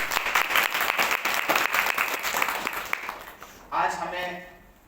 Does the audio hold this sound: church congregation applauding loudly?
yes